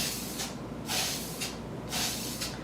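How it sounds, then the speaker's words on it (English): Bursts of spray from an aerosol can, hissing in several long even passes with short pauses between them, close and fairly loud. "you're going to spray in a nice even pattern"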